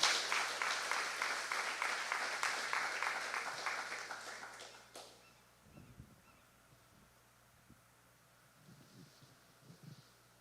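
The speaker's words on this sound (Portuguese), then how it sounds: "aplauda o Senhor Jesus" A church congregation at a Sunday morning service bursts into dense, lively applause for about five seconds, then stops abruptly, leaving a quiet room with faint scattered low thumps and shuffles.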